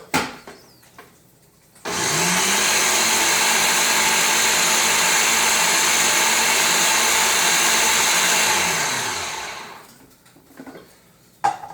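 Blender pureeing crab cake mixture, a steady loud whirring roar that spins up quickly, holds for about seven seconds and winds down, with a few clatters before and after.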